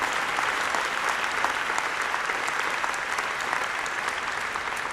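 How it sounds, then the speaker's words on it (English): Sustained audience applause in a large hall at a university founders day address, steady and even throughout with many hands clapping together. "Big round of applause for what we did."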